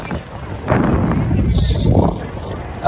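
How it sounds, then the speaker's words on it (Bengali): Strong winter wind buffets the open shore at Inani Beach, Cox's Bazar, as a loud, gusting low roar across the whole stretch, with faint voices now and then. "প্রচুর বাতাস শীতের দিন বাতাস থাকবে"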